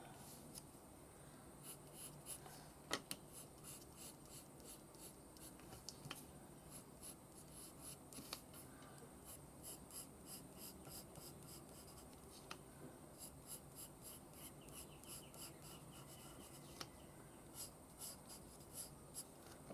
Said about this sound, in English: draw a great big arrow